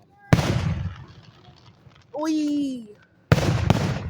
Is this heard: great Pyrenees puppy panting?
no